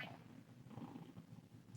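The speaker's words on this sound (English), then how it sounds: "Do you hear the purring?" A tiny kitten purrs softly and continuously close by, a faint, low rumbling vibration with a steady rhythm and no talking.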